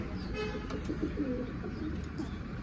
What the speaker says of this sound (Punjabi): ਇਹ ਕਬੂਤਰੀ ਬਾਲੀ ਚੰਗੀ ਹੈ ਨਾਮੀ ਖਿਡਾਰੀ ਹੈ ਆਪਣੇ ਏਰੀਏ ਦੇ